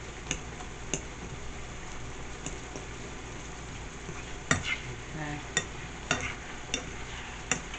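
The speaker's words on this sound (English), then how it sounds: "But I'm gonna fry my my taco shells." Taco shells fry in hot oil in a home kitchen pan, giving a steady quiet sizzle. Sharper pops and crackles break through it at irregular intervals.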